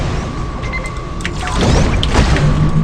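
A bomb bursts in the Bubble Fighter game, a loud rumbling boom swelling from midway and sustaining over steady game noise to the end.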